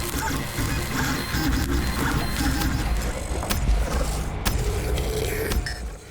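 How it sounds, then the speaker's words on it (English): Inside the game Cosmodread, a 3D printer scraps dumped items with a steady loud mechanical grinding and creaking, broken by a few sharp crunching clanks. "you'll start dumping anything and everything into the 3D printer in the hopes that it'll come in handy"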